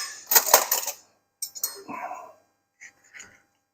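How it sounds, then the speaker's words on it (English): A knife slicing down through a fluffy baked egg muffin, giving a few close, brief scraping and tapping clicks against a plate in short bursts with pauses between. "I'll just cut one down the middle for you."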